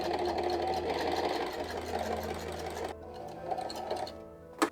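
A sewing machine stitches the sleeves of a linen Viking serk dress, a fast steady mechanical whir with rhythmic needle chatter that runs continuously, then slows and stops briefly near the end, close and moderately quiet.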